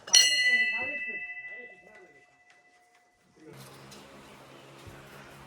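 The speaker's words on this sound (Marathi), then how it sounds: "घंटा मस्त झाली आता." A bell is struck once, ringing loudly with a bright tone that slowly fades over a few seconds. Voices talk nearby, and louder crowd noise follows.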